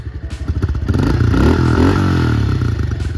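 2023 Honda CRF110 dirt bike engine at close range, a choppy idle that rises into a loud sustained rev and then settles back, alone without talk.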